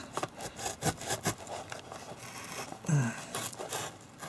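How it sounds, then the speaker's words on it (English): A Victorinox Swiss card knife slicing through the plastic wrap on a box, with soft scraping and rubbing strokes, close up and fairly quiet, coming in short uneven bursts. "So I'll use my Victorinox Swiss card to cut along where there must be"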